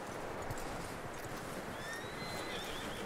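A horse in the video game Red Dead Redemption 2 whinnies and snorts with clip-clop hooves over a steady, dense background wash, continuous and fairly close for about three seconds.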